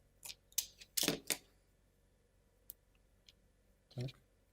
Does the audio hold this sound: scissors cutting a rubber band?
yes